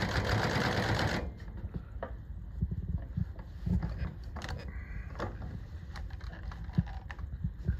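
A Consew 206RB-5 industrial sewing machine stitches through twelve layers of denim, opening with a loud steady run and then slowing into rhythmic individual needle thumps and clicks, close and without talk.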